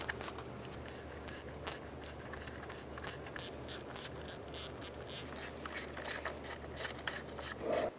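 A ratchet clicks steadily in rapid bursts while loosening intake manifold bolts on the driver's side of a 2004-2009 Dodge Durango, close up with no talk.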